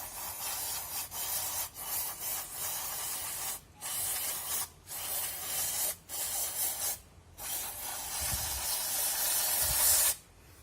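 Rexco contact cleaner sprayed around a motorcycle's CPS sensor area: a series of short, fairly soft aerosol hisses in irregular bursts with brief gaps, alone and close, with faint handling noise near the end.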